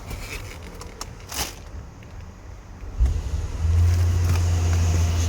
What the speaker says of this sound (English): I will start the car first.